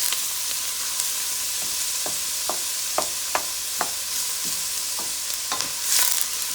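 Ingredients frying in a little oil in a pot while being stirred, a soft steady sizzle with a dozen or so light scraping clicks from the utensil spaced through it, close and without talk.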